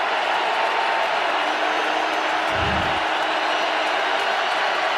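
A packed stadium crowd at an NFL game at the Packers' home field, a steady loud roar of massed voices that holds without a break, with a brief low thump near the middle.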